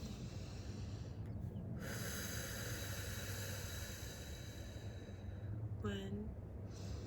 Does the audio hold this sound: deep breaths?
yes